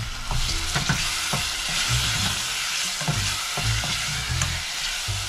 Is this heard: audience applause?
no